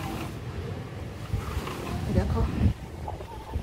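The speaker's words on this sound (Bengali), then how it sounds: "বাইরে যে কি ভয়ঙ্কর হাওয়া হচ্ছে আর তার সাথে বৃষ্টি।" Strong wind roars outdoors with heavy rain during Cyclone Remal, a dense, steady rush with low gusty rumbles, heard close and loud while a person speaks briefly over it.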